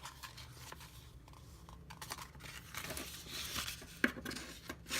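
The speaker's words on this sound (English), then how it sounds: "And then I'm going to cut this little chunk out." Scissors snip and crinkle through the material of a faux marble letter G, a string of soft, close cuts and rustles, with one sharper click near the end and no talking.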